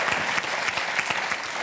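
Dense, steady audience applause fills a French television studio, a continuous wash of many hands clapping at close range with no voices standing out.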